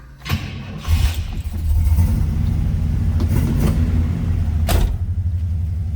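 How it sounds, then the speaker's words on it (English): A 1967 Oldsmobile 442 with a 400 V8 cranks briefly, fires up and settles into a loud, rumbling idle with a throaty low burble and a couple of sharp blips. "Great sounding 400 underneath the hood"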